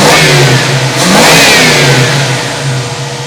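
1967 Ford Mustang with a 302 V8 revving after a timing adjustment, a loud, close engine note rising from idle to a brief rev and settling back down.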